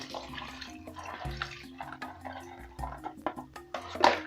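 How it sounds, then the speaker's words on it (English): Washing water is strained off omena, small fish, splashing and trickling as it pours, with intermittent drips and small clatters close by. "I'm going to strain off this water."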